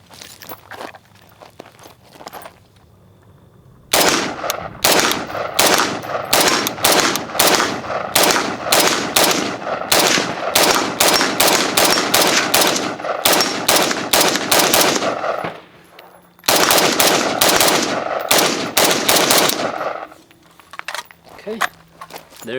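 An FN FNC 5.56mm rifle fires a long string of rapid, sharp, loud shots. A short pause interrupts them before a second string of shots starts. No one talks over the gunfire.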